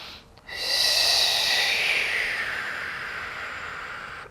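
A long, breathy nasal exhale during a yoga session for the low back and hamstrings, rising after a short catch and slowly fading over several seconds, close and with no talk.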